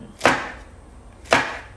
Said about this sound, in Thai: สิหั่นแบบนี้เราไปใส่แกง